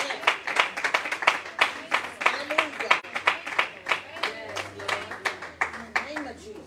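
A church congregation claps hands in a steady, even rhythm of crisp, close claps, roughly three per second, while people talk and sing over it.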